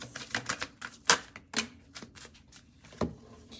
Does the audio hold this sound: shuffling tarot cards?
yes